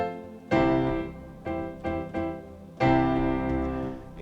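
Yamaha MX88 piano sound layered with a soft ambient pad, a few struck chords at moderate volume, each blooming and sustaining into the next, with the pad washing faintly underneath.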